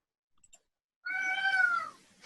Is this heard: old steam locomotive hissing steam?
no